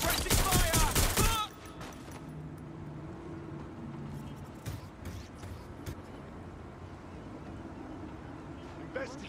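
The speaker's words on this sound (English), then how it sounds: "Provided suppressing fire!" Rapid, loud burst of suppressing gunfire from the video game Watch Dogs: Legion, played on PS5, lasting about a second and a half before dropping to a quieter, rumbling in-game background.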